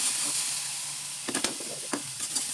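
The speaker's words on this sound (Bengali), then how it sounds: "আমি ভালো করে এগুলো কষিয়ে নিচ্ছি লাল লাল করে নিতে হবে" Spices with turmeric, chili and cumin sauté in a pan with a steady hiss and sizzle, broken by a few brief scraping stirs near the end.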